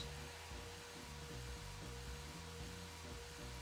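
A vacuum cleaner in the video game The Call of Karen, cleaning up grime, giving a steady continuous whirring hum with a low motor drone, constant in level throughout.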